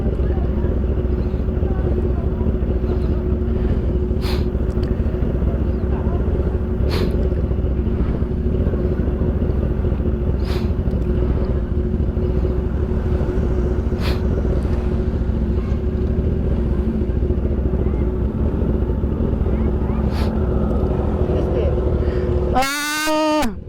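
A motorcycle engine drones steadily during a group birthday ride, a constant low hum with faint ticks, running unbroken throughout at close range, with a sharp tonal chirp near the end.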